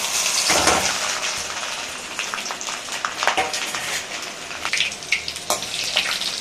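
Whole fennel, cumin and cinnamon fry in hot oil for paneer butter masala, giving a loud, close crackling sizzle with repeated sharp spitting bursts and stirring over a steady hiss, with no voices.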